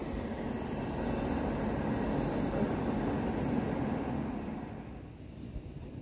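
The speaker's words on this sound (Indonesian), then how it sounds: "Tapi Lodaya saat ini sudah melintas langsung stasiun Gede Bage" Lodaya passenger train running straight through Gede Bage station without stopping, a steady broad rumble and rush of wheels and cars that holds loud for several seconds, then eases and thins toward the end.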